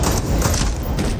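G28 rifle fire in the video game Breakpoint, a loud, dense burst of close shots filling the whole moment.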